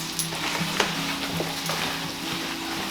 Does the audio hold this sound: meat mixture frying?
yes